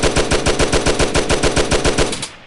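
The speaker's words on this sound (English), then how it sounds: "But this is the M3 Grease gun" An M3 Grease Gun submachine gun fires one sustained burst in a VR video game, with about twelve evenly spaced, fairly slow shots. The shots are loud and punchy, then fade out quickly at the end.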